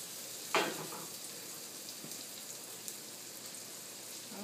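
Butter sizzles and fries in a hot pan before mushrooms go in for an omelette, a steady crackling hiss with a brief louder burst near the start, close by and with no talk.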